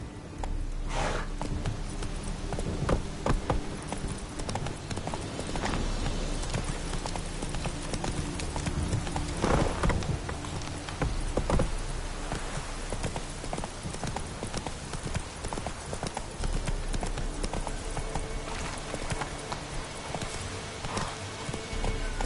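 Roach the horse from The Witcher 3 trots along with steady, close clip-clop hoofbeats, a continuous rhythmic patter over game ambience.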